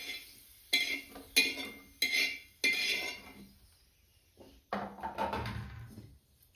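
A metal utensil clinks and scrapes in a pan as garlic fried red in oil is lifted out onto a plate, several sharp close knocks followed by softer sliding scrapes.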